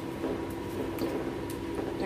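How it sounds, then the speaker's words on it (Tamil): Semolina being stirred into boiling water for jaggery rava kesari gives soft, wet squishing and bubbling, close and continuous across the short stretch, with no voices. "ரவையை கட்டி விடாமல் நல்லா வேகிற வரைக்கும் கிண்டிட்டுருக்கோம்"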